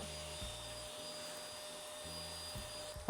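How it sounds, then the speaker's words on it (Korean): A cheap, lightweight cordless vacuum cleaner runs steadily on high power while sucking up mixed grains and beans from a floor, a constant whirring drone with a few soft knocks from the brush head and a sharp clatter at the end. "이게 청소기가 바닥에 브러쉬가 밀착이 되기 때문에 약간 앞으로 쓸려 나가면서 그러면서 흡입이 됩니다"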